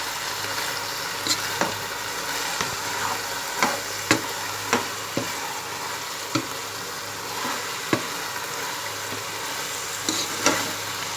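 Tomatoes frying with minced meat in a pot, a constant sizzle punctuated by regular spoon clacks and scrapes against the pot as it is stirred.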